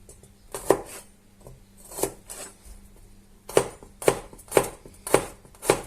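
A knife chops stew ingredients for chicken, chorizo, red bean and potato stew on a board: a few scattered strokes, then a quick run of five or six sharp, close chops.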